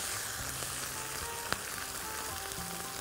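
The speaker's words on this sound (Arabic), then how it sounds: "خلاص انا هسوي دلوقتي الفراخ بتاعتنا" Chicken frying in a pan gives off a steady, even sizzle and crackle, with one brief sharp tick in the middle and no voices.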